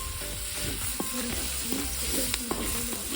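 Onion frying in hot oil in a pan outdoors, a loud, close, steady sizzle broken by several clanks and scrapes of stirring, with no one talking.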